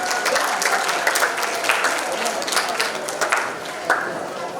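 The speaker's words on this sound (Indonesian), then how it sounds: "boleh tepuk tangan sekali lagi untuk momen kita kali ini" Audience applause at a youth entrepreneurship bootcamp and festival, a dense wash of clapping from a crowd that holds steady for a few seconds.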